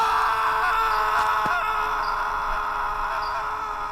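A long, drawn-out wailing moan holds steady for several seconds with a sharp brief crack partway through, loud and sustained, evoking a terrifying scream echoing from behind on a dark night.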